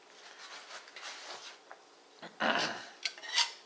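A kitchen knife honed on a sharpening steel, giving soft metallic rasping swipes, a few light ones followed by several louder, close scraping strokes.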